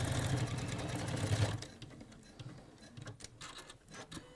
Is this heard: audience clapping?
no